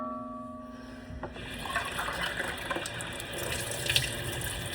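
Water from a kitchen tap runs into an emptied Goya sauce can to rinse it, a steady splashing flow that starts after a moment of quiet and continues close by with small clinks.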